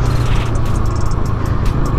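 A motorcycle ridden at full throttle on a hill road in the Tehri area, a loud, steady engine roar close to the mic with continuous low rumble and wind, no talking.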